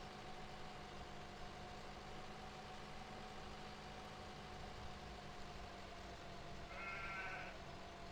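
A single short sheep bleat from the video game Farming Simulator 17 rises near the end over a low, steady hum, faint and set back in a quiet scene.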